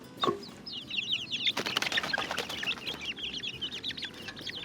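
Young organic-fed backyard chickens excitedly clucking and chirping in a steady chatter, with a burst of wing flapping early on, close and moderately loud.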